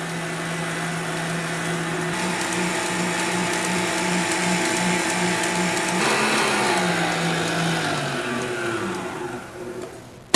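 Electric mixer whipping egg whites for a cake runs as a steady, close motor whir with a faint beating rattle, shifting pitch partway through, then stopping at the end.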